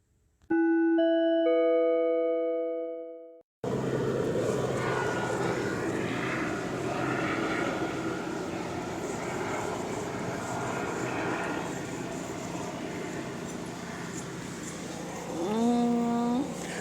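An Ontario Police helicopter passes overhead at night, a steady, broad engine drone that holds for most of the stretch after a short chime-like electronic tone at the start.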